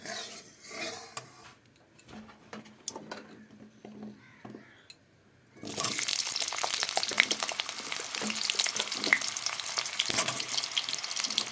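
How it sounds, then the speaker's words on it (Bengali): Potatoes dropped into hot oil in a wok start a loud, dense, continuous sizzle that bursts in halfway through after quieter clinks and kitchen handling. "দেখো কড়াইতে তেল দিয়ে দিলাম আলুগুলো ভেজে নিই কপি আলু"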